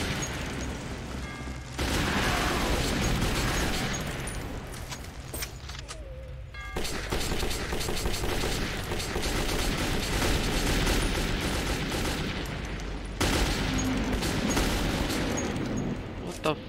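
Gunfire in the video game Metro 2033: loud, dense bursts of automatic shots with mechanical clatter, stopping briefly twice before resuming.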